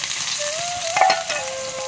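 Fish going into curry frying in a pan, a steady close sizzle with a faint tonal whine and a few soft stirring knocks, no voices.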